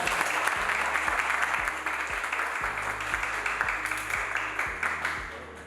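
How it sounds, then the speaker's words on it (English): A crowd applauds at a book launch, steady dense clapping that carries on throughout with a faint low background tone underneath. "I think he deserves a bigger round of applause"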